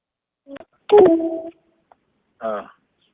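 A caller's telephone gives short tone bursts, a few brief separated beeps with silence between them, close and clear with no talking.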